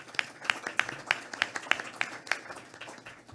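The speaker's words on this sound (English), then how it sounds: "A big round of applause for George." A small audience at a homelessness sector conference claps in a sparse, uneven patter of distinct hand claps, moderately close and without talk.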